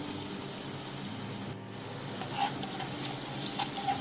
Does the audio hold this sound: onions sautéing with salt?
yes